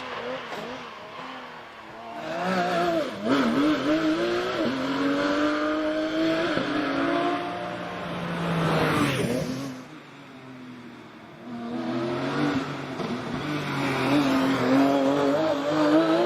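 A Porsche 997 Cup race car with a 3.6-litre engine climbs the Prescott hillclimb course, its loud engine revving hard through repeated rising gear pulls, easing off briefly mid-run and then accelerating again, with a commentator talking over it.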